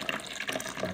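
Water running from the tap of a new water dispenser, a steady close splashing stream with brief bubbling bursts, alone with no voices.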